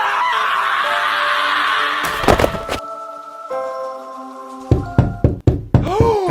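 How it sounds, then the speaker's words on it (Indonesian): Knocks rap on a window pane in several sharp bursts, first a quick double strike, then a cluster of loud taps near the end, against a steady droning background tone. "karena ada suara ketukan jendela"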